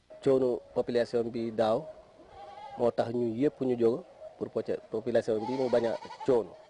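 Several wavering sheep bleats, loud and close, repeating in bursts across the clip with brief pauses between them, no talking heard.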